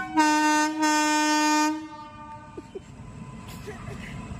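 A train sounds a long, loud two-part tonal horn nearby, then the horn cuts off and gives way to the rumble and rattle of the passing train with a few clanks.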